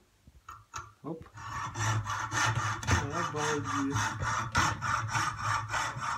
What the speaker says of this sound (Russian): Сам пилит, сам пилит.